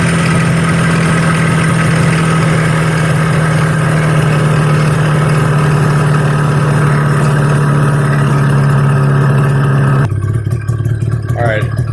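A 1985 Yamaha Phazer snowmobile engine, recently seized, idles loudly and close after a cold start, holding a steady drone before the tone drops and roughens near the end.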